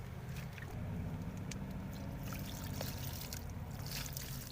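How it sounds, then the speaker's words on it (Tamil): Water poured onto newly planted plants in a terrace garden makes a steady, continuous splashing trickle, close and moderately quiet, with small irregular drips and splatters throughout. "இப்போ தண்ணி ஊற்றிக்கிறேன்."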